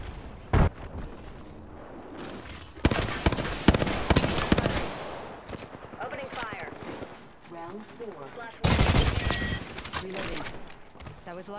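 Gunfire and impacts in Apex Legends, with sharp loud shots at the start and in bursts later, mixed with game effects and a player talking over it.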